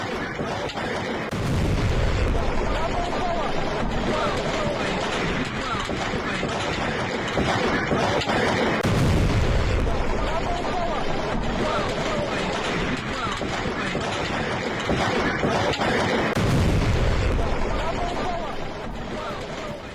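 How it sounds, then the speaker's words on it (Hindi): Explosions from a drone attack on Millerovo airbase sound as deep, heavy booms about every seven seconds. They sit within constant noisy rumble, and a voice appears to talk over them. "यूक्रेनी ड्रोन हमले में मिलरोवो एयरबेस में धमाका।"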